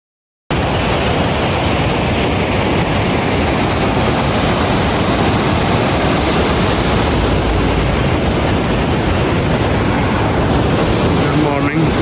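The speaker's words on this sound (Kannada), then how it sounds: "ಆ ಕಡೆ ಸಟ್ಲೇಜ್ ಸೈಡ್ ಇದು ನದಿ ಸೌಂಡ್ ಕೇಳ್ತಾ ಇರ್ಬೋದು ನಿಮಗೆ, ಸಟ್ಲೇಜ್ ನದಿ ಅಂತ ಹೇಳಿ" The Sutlej river rushes in a constant, broad roar heard from a riverside stay in Himachal's valleys between Spiti and Rohru, steady throughout with no break.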